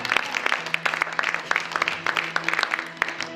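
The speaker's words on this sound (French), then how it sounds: "Acclame Jésus" A church congregation applauding during a sermon, brisk dense clapping from many hands with a few cheers and voices mixed in, close and lively throughout.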